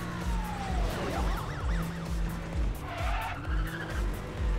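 Porsche Cayman racing in class D in Need for Speed World, its engine revving hard with repeated gear-shift surges, tires skidding and squealing, and a police siren wailing in the mix, loud and close throughout.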